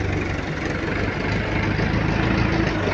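A tractor engine idles steadily at close range on a field of large, rough soil clods, a low continuous rumble with no talk over it.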